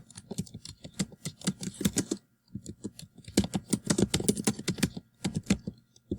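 Rapid typing on a computer keyboard, with dense bursts of key clicks in an uneven rhythm, a short pause midway, then more quick keystrokes, close and fairly quiet.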